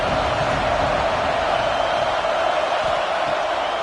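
A football stadium crowd at an AKFL game keeps up a loud, continuous roar of cheering and noise throughout, with no break.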